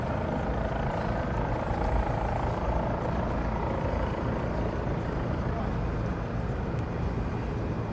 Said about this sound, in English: Helicopters leaving.